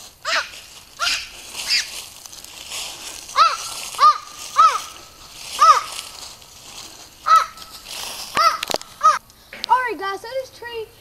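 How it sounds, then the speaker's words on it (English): Crow cawing outdoors beside water on a magnet-fishing outing, a run of harsh, evenly spaced caws, loud and close, with a few faint background voices. "Talk to the bird some more, Ethan."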